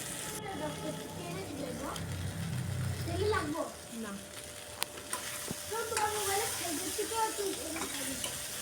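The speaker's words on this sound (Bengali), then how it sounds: "দেখুন ভেন্ডিটা প্রায় ভাজা হয়ে গেছে" Okra frying in a pan gives a continuous close sizzle with stirring scrapes, loud at first and then settling, while someone talks over it and a voice briefly joins in.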